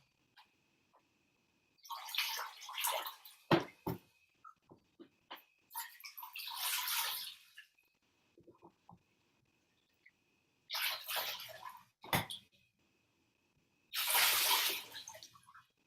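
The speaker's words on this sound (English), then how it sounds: "now I'm going to take my little jar of rinse water" Rinse water poured from a small jar over bare feet, heard as several separate bursts of splashing and trickling water, each lasting a second or two, with short drips and quiet pauses in between.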